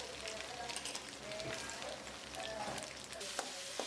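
Ginger and garlic paste with curry leaves sautéing in hot oil in a pan for mutton biryani: a steady, fairly soft sizzle with faint stirring scrapes, continuous throughout, with no talking.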